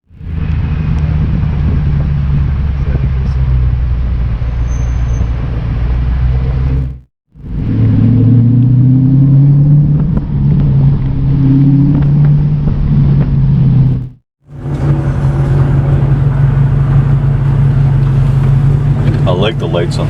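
Loud, throaty exhaust drone from a straight-piped 2006 Ford GT cruising close by through town, steady and rumbling with two brief cut-outs and swelling revs, talk running over it.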